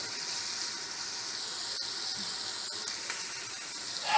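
Garlic frying in a pan for lentil soup sizzles steadily at close range, a continuous bright hiss with a few small pops and no talking.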